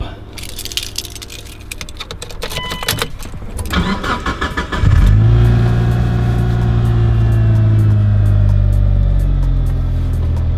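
Mitsubishi Lancer Evolution V engine cranks after clicks and clatter, then catches and settles into a loud, steady idle with a slight rev, heard close up with no talk.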